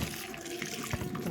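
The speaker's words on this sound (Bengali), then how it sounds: "জলটা ফেলে দিচ্ছি" Dirty water from washing a heavy blanket pours out of a tub, a steady close splashing gush lasting the whole short moment.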